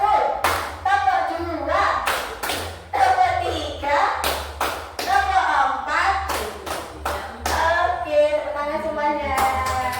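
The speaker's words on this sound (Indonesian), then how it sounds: "Kalau ngantuk tepuk dulu Bu. Tepuk 1, tepuk 2, tepuk 3, tepuk 4" Rhythmic group hand clapping in a counted clap routine at a kindergarten, sharp claps landing in short bursts between spoken counts, with voices talking throughout.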